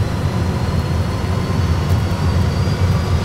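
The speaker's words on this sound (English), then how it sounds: "Takeoff thrust. Takeoff thrust set." Airbus A320 jet engines at takeoff thrust, heard from the cockpit as a loud, steady broadband roar that holds level throughout.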